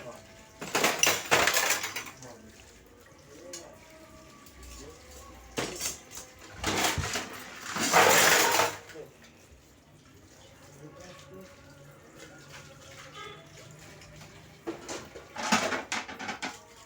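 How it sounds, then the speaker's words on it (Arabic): Dishes, pots and pans being washed in a home kitchen, with bursts of clattering and running water from a tap, broken by quieter stretches where voices talk over faint kitchen noise. "هنخلص المواعين مع بعضنا"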